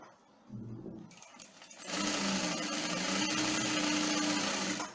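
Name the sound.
industrial sewing machine running at high speed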